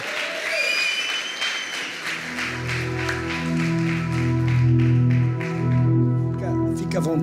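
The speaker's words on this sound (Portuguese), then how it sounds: "Queria convidar o Dr. Braz e uma salva de palmas a Jesus pela vida dele." A congregation at a Bola de Neve church service in São João applauds steadily as a speaker is welcomed, while sustained musical tones swell underneath and a voice speaks over the clapping.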